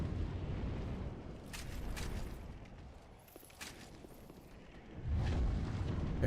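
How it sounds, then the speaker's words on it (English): A boss enemy in Dark Souls 3 breathing fire, heard as a roaring, rumbling whoosh of flame with crackling bursts, loud and near, easing off midway then surging again, with no speech. "he just stays here and spits fire in front of him"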